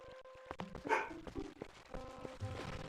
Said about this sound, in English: Apologize for hearing my dogs barking in the background.